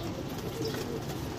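Pigeons kept on a rooftop loft coo softly at a distance under a steady low background hum.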